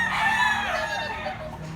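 A rooster in Consolacion, Cebu crows once, loud and close, in a single drawn-out call that fades toward the end.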